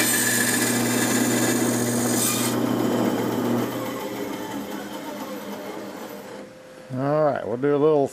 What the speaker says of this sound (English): we'll do a little sanding and filing and see what the final result is